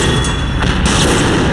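Dense, continuous battle noise from tank gunfire in Men of War Assault Squad 2, a loud steady wash of booms and cannon fire with no clear gaps, played at close range throughout.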